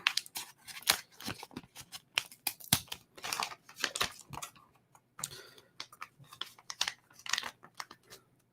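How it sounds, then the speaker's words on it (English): Buck knife slicing open a mail package, a run of close, crisp scraping and snipping cuts with brief clicks, sharp separate strokes spread irregularly over several seconds with no talk. "We got the buck knife to open up the package here."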